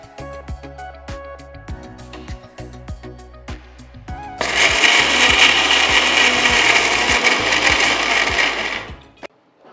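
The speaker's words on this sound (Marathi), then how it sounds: "या आता आपण मिक्सरमध्ये बारीक करून घेऊ" A kitchen mixer grinder grinds a spice masala of turmeric and chilli powder: a series of rattling clicks and short taps first, then a loud, continuous whirring grind that runs about five seconds before stopping.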